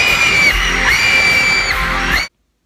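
A stadium crowd yelling, whooping and screaming as performers walk out, a loud, dense roar with rising shrieks that swell in waves before cutting off abruptly.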